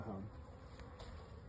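Honey bees from a package being installed into a hive, a steady close buzzing hum of many insects throughout with no talking.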